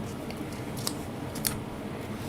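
Scissors cut out a stamped paper image for a glittery snow globe card, giving two short, crisp snips about half a second apart over quiet background hiss.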